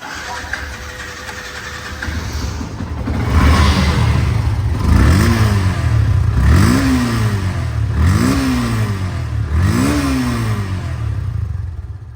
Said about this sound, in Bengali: বাইকটি সাউন্ড কোয়ালিটি শুনলে আপনারা পরিষ্কার হয়ে যাবেন যে বাইকটা আসলে কেমন